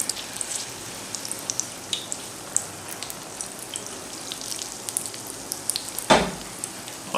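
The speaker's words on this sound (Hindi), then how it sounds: "आप इसको डीप फ्राई भी कर सकते हैं, आप इसको शैलो फ्राई भी कर सकते हैं।" Beef roll frying in hot oil, giving a steady, close crackling sizzle with scattered pops throughout and one sharper burst of spatter near the end; no voices.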